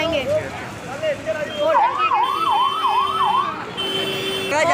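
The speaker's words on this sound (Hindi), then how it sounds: "और पुलिस की गाड़ी का सायरन सुना?" A police car siren wails repeatedly through heavy rain on a street in Katra, loud and fairly close, its rising and falling tone cycling under a man's brief speech.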